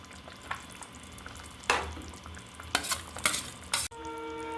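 Paneer and cashew masala curry cooking in a pan, with soft sizzling and several clear stirring scrapes against the pan, fairly quiet and with no voices.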